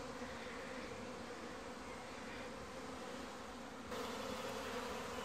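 Bees droning steadily near wooden hive boards, a dense continuous buzz with no voices, slightly louder toward the end.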